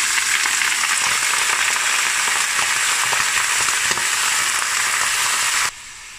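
About two and a half kilograms of pork chops and ribs hit hot oil in a pot, giving a loud, continuous hissing sizzle with crackling spatter that holds steady, then drops sharply near the end.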